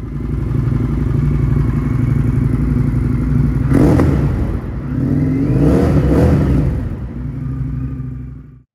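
A 2019 Indian FTR 1200 S with an aftermarket exhaust idles with a deep rumble, then is revved sharply twice, the second rise longer, before settling back and cutting off.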